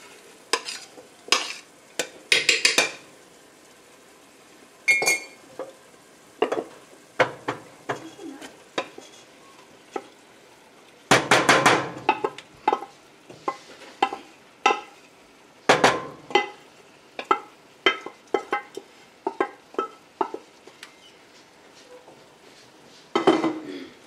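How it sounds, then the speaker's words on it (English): Lentils poured and stirred into a pot of canned tomatoes, with a run of clinks, scrapes and soft rattling knocks from a spoon against the pot, loud and close, in irregular bursts with no talking. "we're just going to add the lentils right into this pot"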